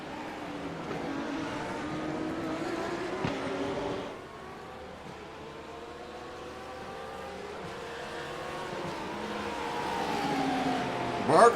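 Porsche and McLaren GT3 race cars at Monza run close through the chicane, engines droning and revving at a moderate distance in a continuous blend of several cars, with a brief dip as they back off and then build again.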